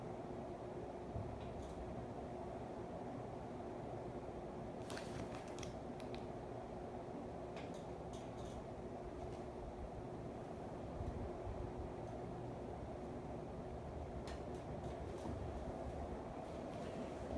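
A Hampton Bay Vineyard 52-inch ceiling fan runs on high and wobbles, giving a steady low motor hum with recurring creaks and faint mechanical ticks throughout, close by and fairly quiet.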